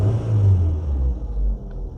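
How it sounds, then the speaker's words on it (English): A Ford Escort Mk6 engine idles close by with a steady, slightly coarse low rumble that swells and dips gently, with no voices over it. "Straight away, I think the engine sounds a bit coarse."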